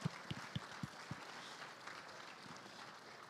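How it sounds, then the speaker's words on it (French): A small audience gives brief, faint applause, a few distinct claps at the start giving way to soft scattered clapping in a quiet room. "On l'applaudit quand même"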